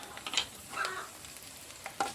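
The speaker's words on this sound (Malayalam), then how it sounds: "നമുക്ക് മൂന്ന് വറ്റൽമുളക് ഇട്ട് കൊടുക്കാം" Three dried red chillies dropped into hot coconut oil with mustard seeds while tempering for cabbage thoran, giving a faint, quiet sizzle broken by a few scattered crackles and pops.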